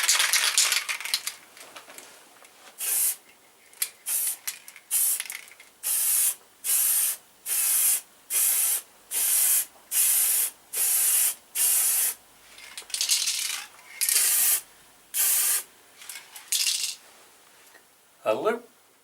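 Black spray paint is dusted onto a Kawasaki Z750R motorcycle radiator guard in a garage, with a long run of short, evenly spaced, loud hissing aerosol bursts from close by.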